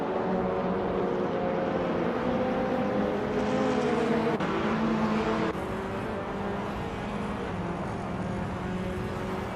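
Race cars in an AI-driven car race, a steady broad engine roar holding throughout with slight shifts in pitch, no voices over it.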